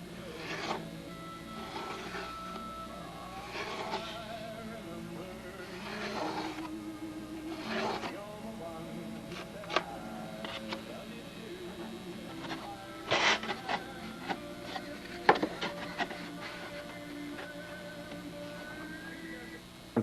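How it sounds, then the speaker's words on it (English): A belt sander grinds a small scrap-wood tail piece to true up a joint, coming in repeated rasping bursts of about a second each, with short pauses and a few sharp knocks between passes. "I'm just hitting this with the belt sander until I can get a nice, reasonably nice joint."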